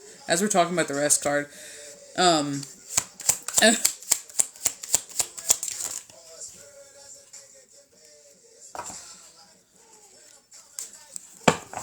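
Tarot cards riffle and snap close by in quick bursts of shuffling, with a voice talking over and between them.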